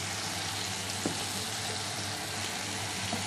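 Baby corn pieces frying in hot oil on a medium flame: a continuous, even hiss of bubbling oil throughout, with a couple of faint clicks and no talking.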